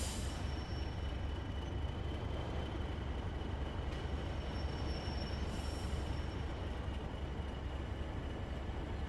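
A British locomotive hauls a heavy train in Train Sim World 4, giving a steady, continuous rumble of wheels and engine with a faint high squeal at times. No voices are heard.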